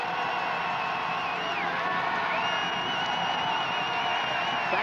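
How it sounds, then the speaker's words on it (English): A large crowd roars and whoops in the stands of a 2004 WPIAL Quad-A championship high school football game between Gateway and Pittsburgh Central Catholic on fourth down and inches, a sustained distant swell with whistles cutting through. "The crowd to their feet."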